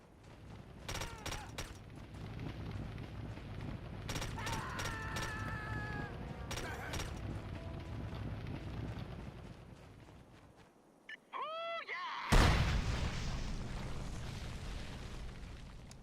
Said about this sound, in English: Placing the charge here will make one big boom. Deploying satchel charge now.